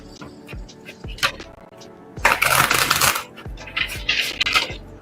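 Tarot cards shuffled close by, riffling in short dry bursts with a longer, louder run in the middle and another near the end, separated by quieter handling taps.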